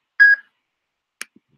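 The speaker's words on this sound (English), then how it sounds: "At the tone, please record your message." Voicemail beep on a phone call: a single brief, clean electronic tone, then a couple of faint line clicks in silence.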